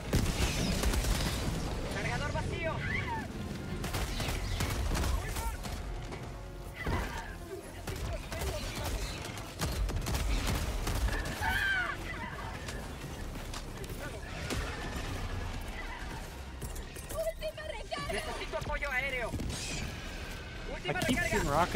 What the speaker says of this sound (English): I keep shooting rockets at them, but it's not doing anything